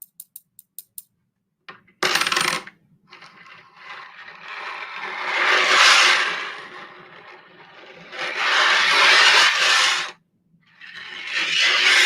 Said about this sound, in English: And then you can even rub the coin on the table for some cool sounds.